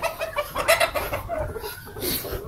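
A rooster clucks and squawks agitatedly up close while picking a fight with a white rooster, a series of short harsh calls with some flapping-like rustle.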